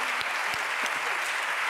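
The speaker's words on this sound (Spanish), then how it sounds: "Un aplauso para David, por favor." A studio audience on a late-night talk show claps for David in a brief burst of steady applause, close and fairly loud, with a few sharper individual claps standing out.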